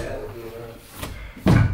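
A door slams shut with a sudden loud, broadband thud near the end, preceded by some movement and quieter background sound.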